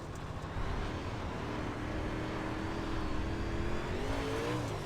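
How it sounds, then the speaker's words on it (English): A UMP modified race car in iRacing, its engine revving loudly and steadily with a rising, droning tone as it accelerates, heard close and alone. "Oh god, I hit the gas too much there."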